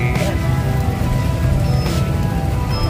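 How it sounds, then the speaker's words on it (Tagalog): Heavy rain pours steadily, a dense continuous hiss and patter that stays loud and even throughout, with no voices. "Lakas po ang ulan mga kalingap"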